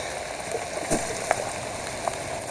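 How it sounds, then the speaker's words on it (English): Heavy rain falls steadily on a surface and water during a catfishing outing, a dense wash of drops with a few sharper splats, close and continuous with no talk. "It just has been raining so hard I couldn't video."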